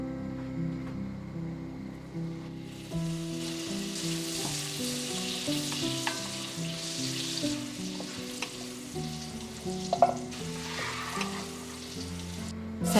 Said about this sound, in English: Heat up your Overmont Dutch oven and melt some butter with olive oil.